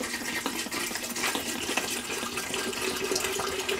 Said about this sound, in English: I'm going to bring the water up to about here.